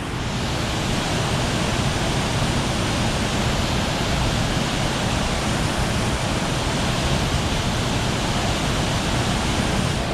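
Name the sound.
river rushing through the Sturgeon River Gorge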